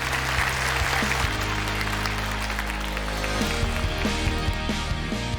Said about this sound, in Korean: 우리 전문가분들 박수로 보내드리도록 하겠습니다